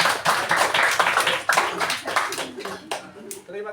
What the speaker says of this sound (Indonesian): Tepuk tangan untuk kelompok 4 dulu.